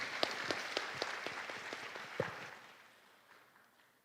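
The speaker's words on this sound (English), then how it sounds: "Give round of applause to Professor Caleb Ferguson." Brief, faint applause from a small conference audience in Jember, a handful of distinct claps in loose rhythm that thin out and fade within about three seconds.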